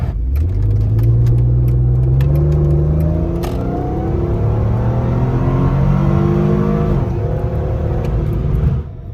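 Engine of a Mercedes-AMG car with a custom tune, revving hard and loud, pitch climbing steadily through gears with a clear drop at each shift, close and continuous.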